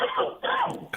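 A single short cough followed by throat clearing, close up, with a brief burst at the end.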